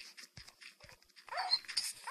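Dogs in the Minecraft video game, several virtual pets giving short whimpering yips and barks in scattered bursts, moderately loud with no talking.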